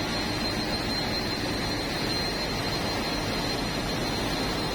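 Two four-stroke main engines in the engine room of the passenger ship KM Umsini roar in a dense, unbroken, loud drone that fills the space with no pauses and no audible voices.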